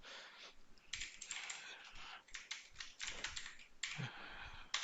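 Computer keyboard keys typed in bursts while writing Go code for an AWS SQS receive-message function, close and clear, with brief pauses between runs of keystrokes.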